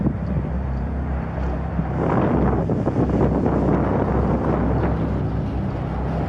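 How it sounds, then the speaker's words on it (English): Strong wind buffets the microphone outdoors at a roadside police stop, a loud, continuous low rumble and roar that swells midway, with traffic-like drone underneath. "it's windy as hell"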